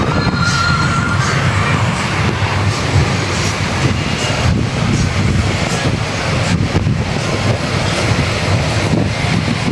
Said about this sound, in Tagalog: Grabe kasi ang hangin.